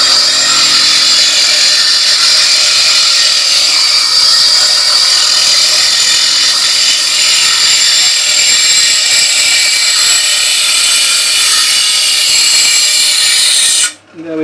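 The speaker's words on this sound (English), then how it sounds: "Now all I need to do is go into the grinder, take it down." A bench grinder whines loudly and continuously up close as it shapes an antler point for a walking stick, holding a steady high pitch before spinning down abruptly at the end.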